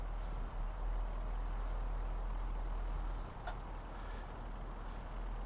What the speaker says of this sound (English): let's go ahead and switch this into 4 low. Put it into neutral, shift in progress